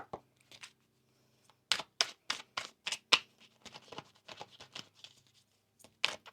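Oracle cards being shuffled by hand, quiet crisp riffling bursts and soft taps in short clusters with pauses between, close and alone.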